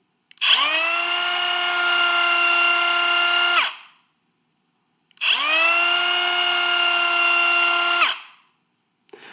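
Two long, loud runs of a Milwaukee power tool at speed setting 4, each a steady high whine that starts abruptly without soft start and cuts off quickly with a braking stop, silence between.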